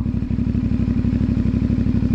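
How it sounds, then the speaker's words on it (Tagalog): A CFMoto 450MT motorcycle engine runs close by, a loud, steady, rapid thumping idle with an even mechanical rhythm and no voices over it. "Ito na nga ang engine ko sa motor."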